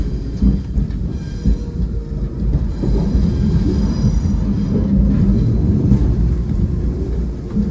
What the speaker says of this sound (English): our leader is a P32 ACDM 230 New Haven Railroad unit.